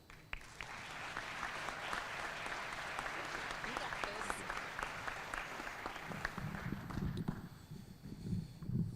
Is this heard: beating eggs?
no